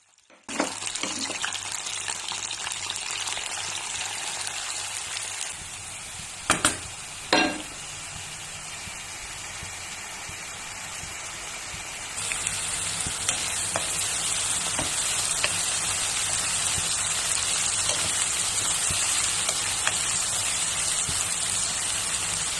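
Onions frying in oil, part of making pork hopia, sizzle in a pan as a dense, steady hiss, with a couple of clattering stirs midway and the sizzle growing louder and brighter toward the end.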